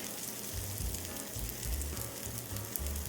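A keto savory chaffle with feta and olives sizzles steadily and close by, a continuous crackling hiss with faint low thumps underneath and no talking.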